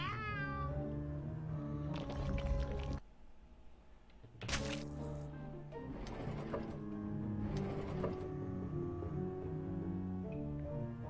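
A voice imitates a cat with a few drawn-out meows over steady, layered music, with a brief quieter gap partway through.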